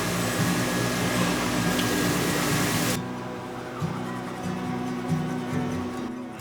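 A USA MGAD20S compact grinder cutting a seax blade, a loud, harsh whirring grind for about three seconds that then drops to a quieter, steady motor hum with faint intermittent scraping.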